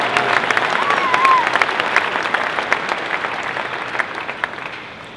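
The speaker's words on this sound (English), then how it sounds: "Let's give them a round of applause" Steady crowd applause fills an arena during the 4-H barrow show final drive at the Indiana State Fair, a dense wash of clapping from many hands that stays loud and even throughout with no talk over it.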